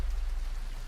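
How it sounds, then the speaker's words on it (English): Steady rain falls on a surface as an even, continuous hiss with a low rumble underneath, heard alone for under a second. "Of this rain?"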